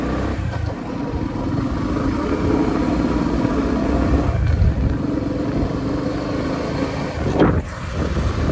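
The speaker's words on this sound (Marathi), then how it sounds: "2 व्हीलर 2 बाईक घेऊन चाललो." Two motorbikes ridden along a road carry four people, a steady engine drone and road rumble running throughout at close range, with a brief louder swell near the end.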